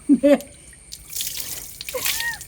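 Water runs and splashes in a home bathroom during a pedicure, heard as a couple of close plops followed by soft trickling and dribbling from a tap.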